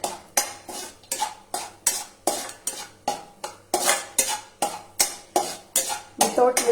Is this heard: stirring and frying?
yes